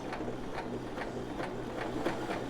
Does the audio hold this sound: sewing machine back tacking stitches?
yes